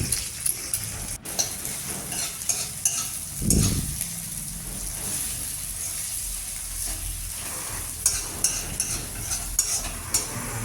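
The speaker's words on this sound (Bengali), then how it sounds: "এবারে ডিমটা ভেজে নেব।" An egg fries in a pan for chowmein, a close sizzling hiss broken by scraping stirs and light clinks of a utensil, with one heavier scrape partway through and no talking.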